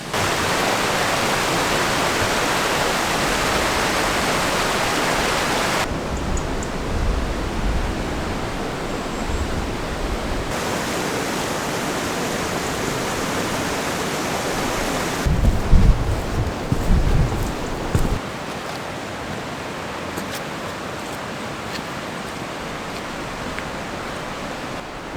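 River rushing through Chee Dale, a broad loud roar of moving water that fills the whole stretch, shifting in level as the listener moves, with a few rustling, thumping footsteps near the middle and no talking.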